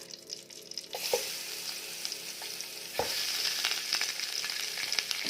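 Chicken frying in butter in a pan gives a close, crackling sizzle that swells louder partway through, with occasional clinks and stirring scrapes and no talking.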